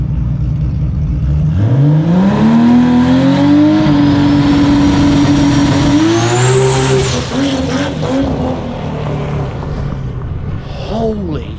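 A drag race car on 275 tires launches hard off the line in a street shootout. The engine's loud revving roar climbs steadily in pitch, shifts around midway, then pulls away and fades.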